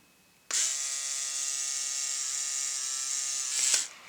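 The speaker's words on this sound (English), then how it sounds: "This is my brother's dinosaur toothbrush." A dinosaur-shaped electric toothbrush buzzes steadily for about three seconds, a close, bright, continuous electric whine that starts abruptly and cuts off at the end, with no talk over it.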